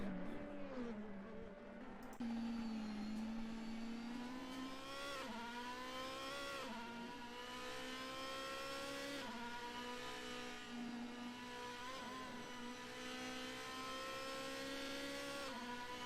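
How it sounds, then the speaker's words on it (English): DTM race car engines in a sim racing game at Bathurst, a continuous loud high-revving drone with gear changes and pitch shifts as the car accelerates and brakes, heard on board without talk. "because the sound of these engines are just beautiful"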